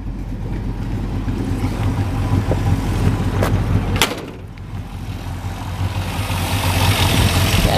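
A 1966 Plymouth Barracuda V8 engine idles with a steady, deep rumble; a brief clack interrupts midway before the idle continues.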